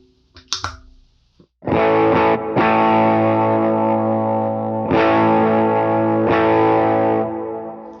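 An electric guitar through dual amps with a compressor plays a few muted scratches, then loud sustained distorted chords struck several times, even and smooth in level with a long ringing decay.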